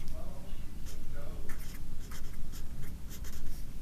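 A pen scratches across paper as a card title is written by hand, with several short strokes close to the mic over a steady low background hum.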